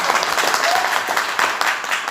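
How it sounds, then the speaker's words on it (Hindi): An audience at a motivational talk breaks into loud, sustained applause, dense clapping that runs evenly throughout with a faint voice underneath. "ताली जोरदार वाली बजाइए।"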